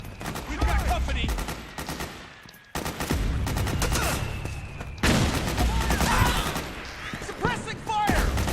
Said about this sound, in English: Suppressing fire! Back me up! Cover!